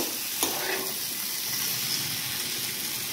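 Pumpkin and ridge gourd being stirred into sizzling spices in a pan for a rohu fish curry, a steady frying hiss with a couple of soft scraping strokes, close and continuous with no talk.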